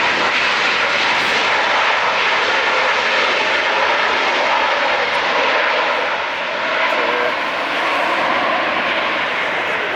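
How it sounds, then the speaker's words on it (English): Boeing 757 with Pratt & Whitney jet engines at LAX, a loud steady roar heard continuously from fairly close with no talking. "Starting the show with the 5-7. Loud Pratt & Whitney engines"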